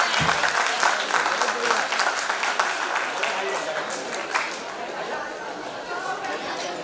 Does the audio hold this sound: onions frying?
no